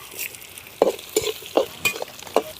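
Cumin and red chillies frying in a pan for an amaranth stem stir-fry, with a faint sizzle under five distinct, fairly loud spatula scrapes spaced roughly evenly apart, and no talking.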